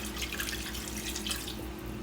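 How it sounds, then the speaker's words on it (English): Water pouring steadily into a bowl of oxtail and seasoning marinade, a continuous close splashing trickle with no voices. "And then you wanna add the rest of your water"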